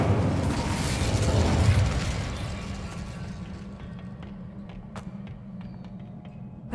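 Incendio fire spell cast in Hogwarts Legacy, a loud whooshing burst of flame that swells over the first two seconds, then fades into a low rumble dotted with small crackling pops.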